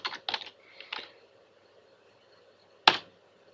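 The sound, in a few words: computer keyboard typing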